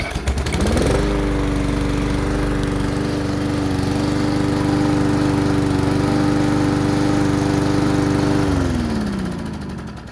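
A repaired lawn mower engine cranks, catches and runs at a steady, loud drone for several seconds before winding down near the end.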